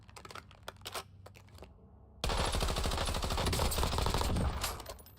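Rapid automatic gunfire from the Warzone video game bursts in loudly after a quieter stretch of scattered clicks, then sustains as a dense, continuous rattle for about three seconds.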